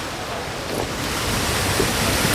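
Fresh drinking water flowing from a public fountain in Florence, a constant, fairly loud rushing splash close by, with street ambience and no clear speech.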